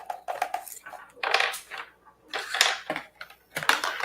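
A computer keyboard clatters in irregular bursts of sharp key strikes, close and fairly loud, separated by brief quiet gaps.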